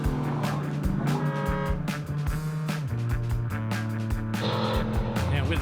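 Suzuki 4x4 off-road competition vehicle at an extreme 4x4 challenge, its engine revving hard in repeated surging bursts as it climbs and clears an obstacle, close and loud with shifting pitch.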